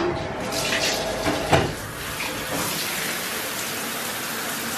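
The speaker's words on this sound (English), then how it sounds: "I'm gonna go into the bathroom though and I'm going to take a shower" Running bathroom shower in a New York apartment, a steady hiss of falling water with a brief louder splash near the middle, close by and continuous throughout.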